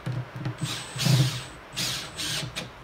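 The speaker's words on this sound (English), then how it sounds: "electric screwdriver set, fairly low torque setting, but it's gonna make it a bit easier to do these up" An electric screwdriver on a low torque setting tightens bolts on a kayak tackle pod, giving short whirring bursts separated by pauses, near and moderately loud.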